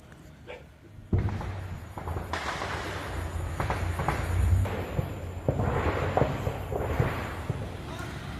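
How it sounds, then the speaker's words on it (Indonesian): Artillery fire near a village on the Thailand-Cambodia border, a series of heavy booms and rumbling blasts at a distance over a constant noisy background. "Suara artileri terus terdengar di sekitar desa."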